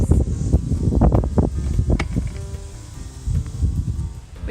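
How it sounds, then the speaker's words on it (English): Gusty wind outdoors on a farm buffets the microphone in uneven low rumbling bursts, strongest early on and easing toward the end. "It's windy, so hopefully you can hear."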